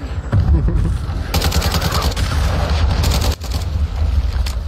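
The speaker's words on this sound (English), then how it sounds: "Friendly cruise missile inbound." A cruise missile strike in a video game: a loud, dense rumble of booming blasts and rattling gunfire-like bursts, sustained throughout with a brief dip near the end, close and heavy.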